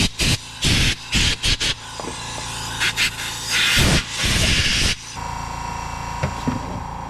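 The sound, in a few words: compressed air blowing out engine coil area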